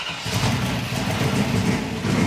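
Car engine running and revving in a garage during a timing check, a loud, steady, close roar with slight rises in pitch, no talk.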